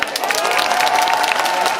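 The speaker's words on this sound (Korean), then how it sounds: "박수 한번 뭐 다시 주실까요?" A festival closing-ceremony audience applauds in a steady, dense wash of clapping with some crowd noise, close and continuous for the short stretch.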